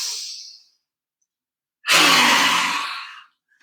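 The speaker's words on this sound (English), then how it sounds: "It's a rasping sound in the throat." Two raspy breaths in the throat during a breathing exercise: a short fading exhale at the start, then after a pause a longer, louder rasping breath lasting over a second.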